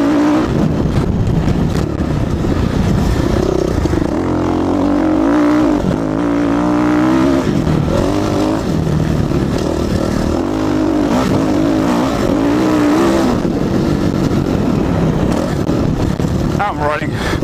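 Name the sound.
motocross motorcycle riding on track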